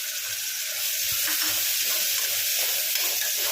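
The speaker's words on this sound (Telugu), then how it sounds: "1 నిమిషం నూనెలో ఇలా ఫ్రై కానివ్వండి." Chopped tomatoes with turmeric and garlic paste fry in hot oil, giving a constant close sizzling hiss with a few faint stirring knocks beneath it.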